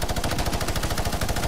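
Rapid automatic gunfire from a Fortnite match, a steady, evenly spaced stream of shots that runs loud and unbroken with no talk over it.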